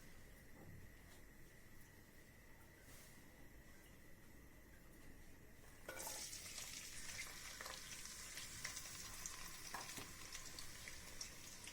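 Chopped onion, garlic and green chillies dropped into hot oil in a cooking pot on a stove burst into a loud, steady sizzle about halfway through, after a quieter stretch of low kitchen background.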